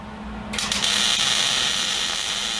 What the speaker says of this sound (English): I lay a couple spot welds on there, 180 degrees from each other.